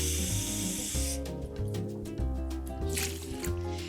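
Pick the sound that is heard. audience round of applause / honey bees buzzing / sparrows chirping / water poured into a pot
water poured into a pot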